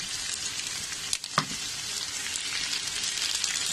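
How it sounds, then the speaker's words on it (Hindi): Chopped onion and tomato frying in a pan for paneer lababdar, a steady close hiss and sizzle throughout, broken by a couple of brief stirring knocks near the middle. "अच्छा मैसी होने तक इसको पकाएंगे टमाटो को भी।"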